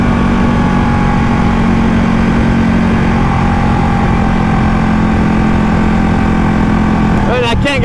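A Ducati Panigale 1199S motorcycle engine roars at a steady, heavy drone, loud and continuous as if heard while riding, with a brief sharper rise of noise at the very end.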